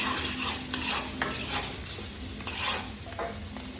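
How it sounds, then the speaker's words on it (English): Shrimp and pineapple stir-fried in a hot pan for a pineapple shrimp bowl, with a steady loud sizzle and scraping stirs that come back at short intervals, and no talk. "I'm just gonna stir fry this for about 35 to 45 seconds."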